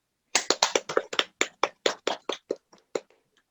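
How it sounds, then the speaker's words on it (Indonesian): A small class gives a short round of hand claps, about fifteen close, crisp claps in an irregular, thinning rhythm that fades out within a few seconds in a quiet room. "Sok berikan tepuk tangan untuk Rindi."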